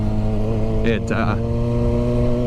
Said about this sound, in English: I do hear a slight engine noise in this thing